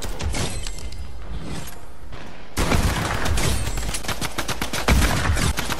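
Rapid bursts of gunfire from a gun in the Fortnite video game, dense and loud, with a sharper, heavier volley starting partway through and continuing as repeated close shots.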